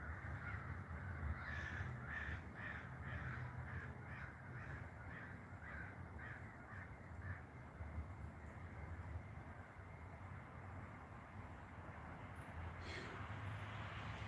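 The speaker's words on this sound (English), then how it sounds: "I never heard crows like that." A flock of crows calls outdoors in the dark, giving repeated harsh caws in a steady rhythm at moderate distance over a constant low rumble of background noise.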